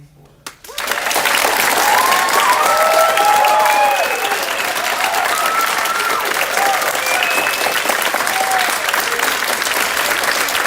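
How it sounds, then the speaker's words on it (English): A large crowd applauds the graduating class of 2024 at a graduation ceremony, loud sustained clapping that swells early and holds steady, with cheers and whoops rising over it. "let us give another large round of applause to the class of 2024"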